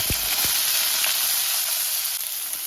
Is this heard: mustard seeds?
yes